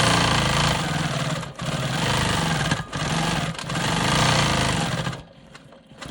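A sewing machine runs steadily while stitching free-motion swirls on a star cross quilt block, a loud continuous motor hum with a few brief pauses before it stops near the end.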